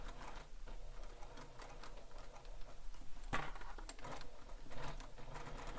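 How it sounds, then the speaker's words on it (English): A sewing machine stitching together the pieces of a handmade Piper bag, running steadily with a dense mechanical patter and a brief sharper knock partway through, close and alone. "So now I'm going to stitch it"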